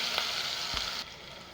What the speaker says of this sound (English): so we'll be frying this now